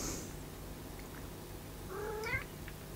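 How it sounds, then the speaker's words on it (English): A hungry house cat meows twice in a room where an iPhone screen is being repaired, a faint short cry early on and a clearer drawn-out one near the end, heard over steady low background hum. "Ignore the cat. She's hungry."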